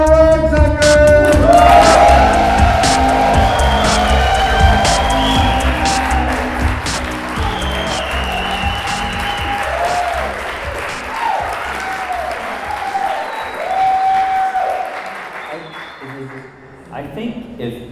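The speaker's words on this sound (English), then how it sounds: "Give a huge round of applause for our guest, Shawn Riegsecker." A live audience at a Startup Grind Chicago event breaks into loud applause and cheering for a guest. Dense clapping with whoops is mixed with voices and some music. It holds for most of the stretch, then fades toward the end.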